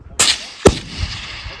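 A long-range rifle fired at an extreme long range shooting match, a sharp close crack followed by a second loud report and a fading rumble outdoors.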